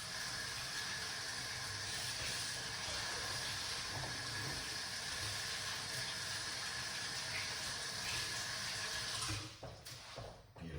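Water running steadily from a tap while hands are washed, a continuous close hiss that cuts off near the end with a few splashes.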